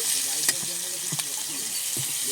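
Chopped onion with five-spice seeds crackles briefly in hot oil in a pan, a short close sizzle punctuated by a few sharp ladle taps, with no talking.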